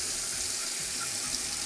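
Warm water runs steadily from a kitchen tap for vegan pizza dough, a continuous close splashing hiss with no talk over it.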